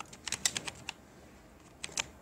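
Short bursts of soft tapping on a phone screen keyboard while entering example text for an HTML heading, a quick cluster of taps, a pause, then a few more, faint and close.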